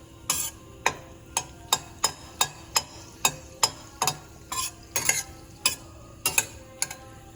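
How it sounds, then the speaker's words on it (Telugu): Red chillies frying in oil in a pan on a lit stove, sharp crackling pops at a quick, fairly even pace over a low sizzle, close by and with no talking. "వెలిగించి మిర్చి వేసాను"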